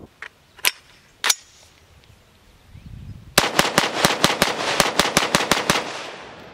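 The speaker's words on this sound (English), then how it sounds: "this gun is a soft shooting machine" A 16-inch AR rifle with a rifle-length gas system firing .223 Wylde, two separate loud shots followed by a fast string of about twelve cracks in close, even succession, heard near and alone.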